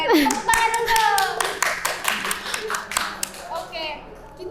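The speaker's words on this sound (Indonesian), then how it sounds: "Tepuk tangan dong." Young audience at a school talk event clapping hands in a short burst of close, brisk claps that tapers off, mixed with children's voices and chatter over it.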